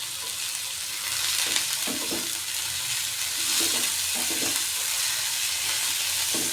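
Dill leaf (shepu) bhaji with dal and spices being stir-fried in a pan, a steady broadband sizzle with irregular scraping stirs of a spatula throughout, close and fairly loud, no talking.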